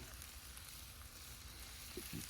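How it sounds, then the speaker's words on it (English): Onions and peppers cook in tallow on a collapsible grill, giving off a faint, steady hiss of sizzling throughout with a couple of soft knocks near the end. "as we cook those onions and peppers down. Can you hear them sizzle?"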